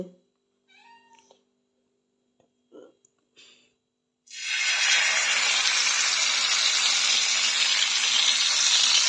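After a few quiet knocks and brief murmurs, fish hit hot oil in a pan and a loud, steady frying hiss takes over and continues close by.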